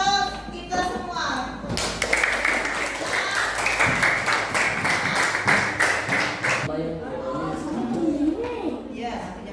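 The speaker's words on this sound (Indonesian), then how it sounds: "Oke, tepuk tangan untuk kita semua." Young children in a classroom clap their hands together in a burst of quick, ragged applause lasting several seconds, with kids chattering and a teacher's voice around it.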